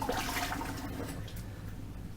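Water splashed onto a face before an oil shave, a soft continuous wet wash with light splashing throughout, close and fairly quiet, with no talking.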